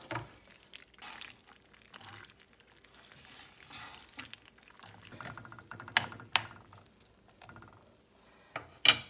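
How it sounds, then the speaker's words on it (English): Onions dropped into melted butter in a pan over low heat for a loaf recipe, with soft intermittent sizzling and a few louder clatters and stirring scrapes in a quiet kitchen. "Once you get a good melty base, you can add your onions in."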